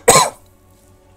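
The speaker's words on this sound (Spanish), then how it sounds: "Ay, chicos, perdonad por las toses." A single loud, close cough bursts out and fades quickly into a quiet room hum.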